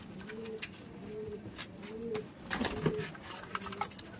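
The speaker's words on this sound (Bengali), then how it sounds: "আর এই কালদম পায়রা আপনারা দেখুন একটু" Kaldom pigeons coo in repeated low, rolling phrases at a steady rhythm, fairly close, with occasional wing flutters and background rustling; no speech.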